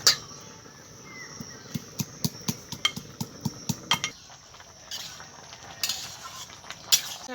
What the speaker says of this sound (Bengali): এই রসুনটাও আমি হামান দিস্তায় করে একটু